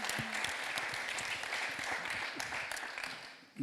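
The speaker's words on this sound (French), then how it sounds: "je pense qu'on peut l'applaudir" An audience at a convention stage session claps warmly in a full, even burst of applause that holds steady and then fades out at the end.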